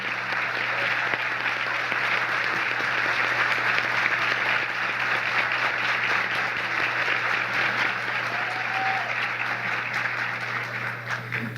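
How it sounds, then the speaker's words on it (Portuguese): An audience breaks into dense, sustained applause, many hands clapping together at an even, loud level throughout. "gostaria de uma forte salva de palmas para eles, porque eles merecem"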